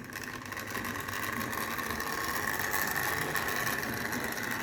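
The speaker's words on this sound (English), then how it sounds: "I did my best with the motor, but it doesn't want to be quiet" A worn motor in a 1971 Triang Hornby Flying Scotsman model train set hums and whirs steadily and noisily at moderate volume, running continuously throughout.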